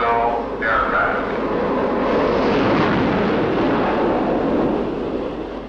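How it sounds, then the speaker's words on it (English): Jet aircraft engines start on an aircraft carrier flight deck with a loud, dense roar that swells and holds steady, a rising whine briefly audible at the start, as the sound begins to ease toward the end. "Stand clear of jet intakes and jet exhaust."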